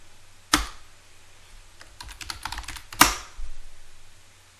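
Someone types a Linux terminal command on a computer keyboard. There are scattered light key clicks, a run of quick taps in the middle and two sharp, louder keystrokes that stand out, all close by and with no talking.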